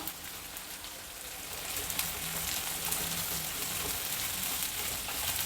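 Green chillies and curry leaves fry on a high flame for a festive mango chitranna, making a dense, even crackling sizzle that holds steady and slightly swells, close and without voices.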